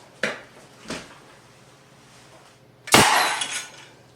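A beaver instant kill trap snaps shut, one sharp loud metallic clack with a short ringing tail, preceded by two softer knocks.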